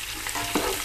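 Onions frying in a pan, a steady sizzle with a brief stirring scrape near the end, close and unaccompanied by talk.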